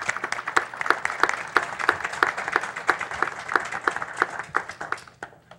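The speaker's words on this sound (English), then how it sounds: "Big round of applause, please." Applause after an awards presentation at a county school board meeting: a steady round of hand clapping from a modest audience, fairly close and sustained, thinning out toward the end.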